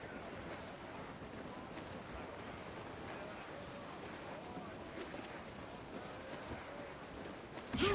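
Sailing ship pushing through open sea in a squall in Assassin's Creed IV: Black Flag, a steady rush of wind and surf with a low rumbling wash, muffled and constant, with faint crew voices beneath.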